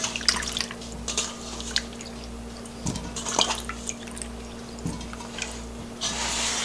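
Grapes being rinsed in water in a home kitchen: soft sloshing and dripping with occasional splashes over a low steady hum, close and moderate in level, no speech.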